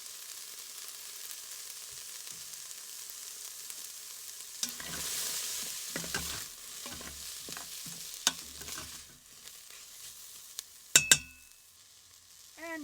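Chili powder and ground cumin sauté in an Instant Pot. A faint hiss comes first, then quiet sizzling with a series of spoon scrapes and stirs, and a few bright metallic clinks near the end.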